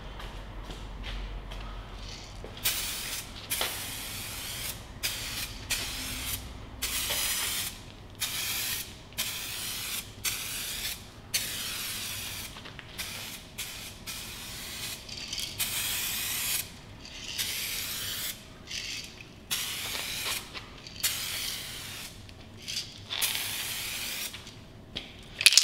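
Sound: spray painting car chassis part with spray paint

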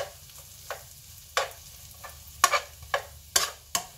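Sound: onions frying in a pan

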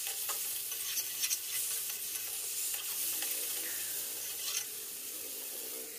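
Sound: stirring and frying cauliflower and potato in spice paste

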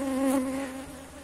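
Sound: honey bee swarm buzzing at beehive

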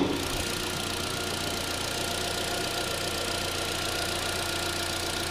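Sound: 2013 Chevy Sonic Ecotec 4-cylinder engine idling

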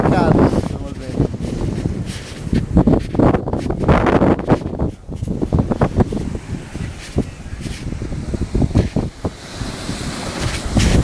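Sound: wind blowing at a beach with waves

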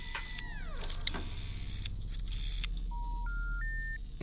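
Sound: telephone dialing tones in video game The Cat Lady

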